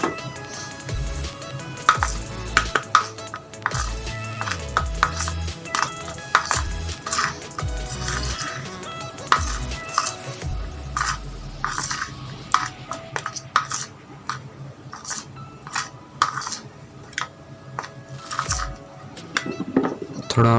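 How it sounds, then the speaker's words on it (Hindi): Homemade slime with toothpaste being stirred in a bowl: repeated clinks and scrapes of a utensil against the bowl come in uneven bursts over about twenty seconds, with occasional voice in the background. "इससे हमने इसमें थोड़ा थोड़ा मिक्स करना है।"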